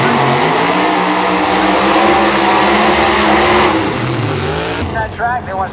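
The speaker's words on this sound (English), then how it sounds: "we have George Williams in that beautiful 1951 Chevrolet built by Montana Brothers Racing, racing against Bruce Mullen" A 1951 Chevrolet drag race car built by Montana Brothers Racing roars loudly down the strip during round one eliminations, its engine note sweeping as it accelerates, while an announcer talks over it.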